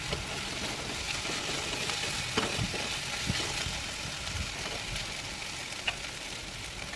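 Curry leaves frying with onion and tomato for a fish curry, a soft continuous sizzle and hiss with occasional faint spatula taps, fairly quiet and steady, no voices.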